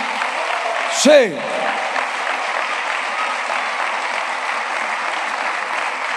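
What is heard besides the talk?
congregation applause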